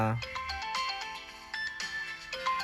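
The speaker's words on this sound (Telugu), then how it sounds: "అరే డాడీ ఫోన్ చేస్తుండ్రా" A melodic electronic ringtone plays close up, a bright repeating tune of synthetic notes with a steady rhythm and no voices.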